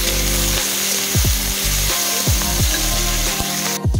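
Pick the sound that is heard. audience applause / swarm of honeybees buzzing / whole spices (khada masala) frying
whole spices (khada masala) frying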